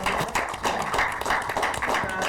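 Steady applause from an audience at a Ramadan talk on digital verification, dense clapping running evenly throughout at moderate loudness.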